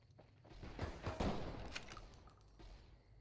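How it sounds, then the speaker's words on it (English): Gunfire aimed at the player in Fallout: New Vegas, a faint burst of rapid shots and cracks from a distance, quiet and scattered over a few seconds. "Who's shooting at me now?"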